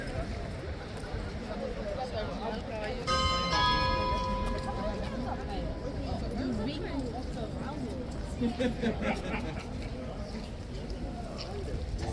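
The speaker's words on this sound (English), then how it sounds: "I didn't actually realise that the bell was about to ring" A church bell rings briefly, its tone ringing out over outdoor crowd chatter near the King's Guard, with people talking and faint hoof clops nearby.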